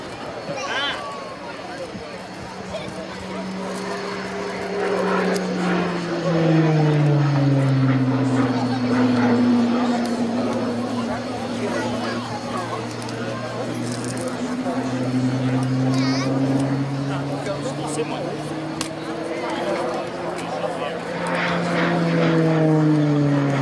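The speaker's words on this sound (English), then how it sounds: "the Tucano's final year as a display aircraft" A Tucano propeller display aircraft flying at the Royal Navy air day at RNAS Yeovilton, a loud droning engine whose pitch sweeps down and up repeatedly as it passes and turns, over crowd ambience.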